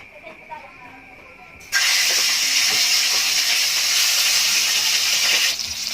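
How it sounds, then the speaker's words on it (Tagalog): Batambaka fish frying in hot oil in a pan, a loud steady sizzle that bursts in abruptly after a quieter moment, holds for several seconds, then drops off. "So ipo-fried na natin ito guys"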